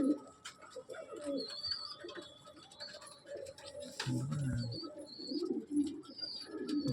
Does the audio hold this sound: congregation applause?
no